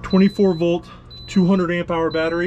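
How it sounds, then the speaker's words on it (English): An RV inverter alarm sounds after shore power drops, with a LiTime 24-volt 200Ah lithium battery bank taking over. A thin, steady high tone runs beneath someone talking up close. "See, that's the alarm going off."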